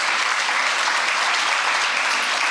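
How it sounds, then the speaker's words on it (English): An audience at a science and technology innovation awards ceremony in Jamaica applauds, a dense, steady wash of clapping that stays loud and even throughout. "Let's just put a big, big, big round of applause for them."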